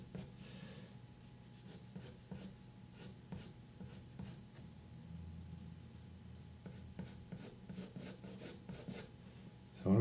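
Pencil drawing lines on paper, soft scratchy strokes repeating in short bursts, close and quiet with no talking.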